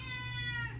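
A cat gives a single short, clear meow indoors, quiet and alone.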